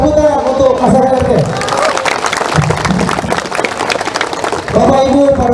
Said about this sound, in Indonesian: Tepuk tangan untuk masyarakat RT.